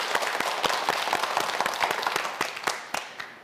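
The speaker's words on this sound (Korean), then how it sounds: "송채원 학생에게 큰 박수 부탁드릴게요." A quiz show studio audience gives a short burst of applause, with brisk, dense clapping close by that holds steady, then thins out and fades at the end.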